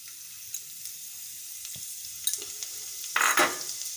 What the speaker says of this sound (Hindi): तेल गरम हो गया, पहले लहसुन को छोड़ देते हैं।